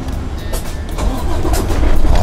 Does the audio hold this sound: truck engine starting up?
yes